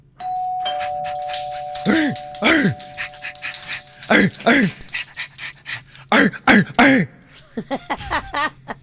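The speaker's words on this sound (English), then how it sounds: "This is a dog barking at a doorbell." A doorbell chime rings, then a dog barks and yelps repeatedly in short sharp bursts, close by, with panting between barks.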